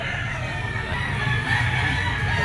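A yellow-legged rooster of Sweater bloodline at a pet market crows and clucks amid other fowl, producing a steady, fairly close layer of bird calls throughout.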